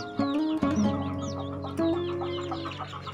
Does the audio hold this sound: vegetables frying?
no